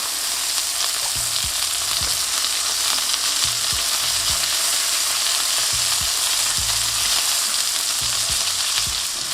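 A juicy lucy burger patty sizzles loudly in a pan while butter is spooned over it, a dense continuous crackle marked by repeated soft spoon taps at an uneven pace.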